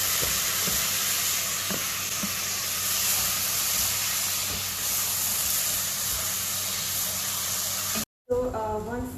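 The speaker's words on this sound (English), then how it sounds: "now I'm going to add this rice that I've washed twice into this mixture" Washed jasmine rice stirred into hot oil with onions and garlic, a steady close sizzle and hiss with faint scraping throughout, cut short near the end.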